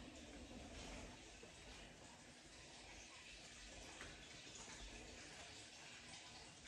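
Water runs from a pipe in an abandoned cliff-top mansion, a faint, steady hiss and trickle that continues without a break and sounds slightly distant.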